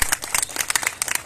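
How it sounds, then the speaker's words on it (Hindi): A seated crowd at a political gathering bursts into quick applause, dense rapid clapping heard close and moderately loud for a brief moment. "उनके लिए एक बार जोरदार तालियां हो जाए।"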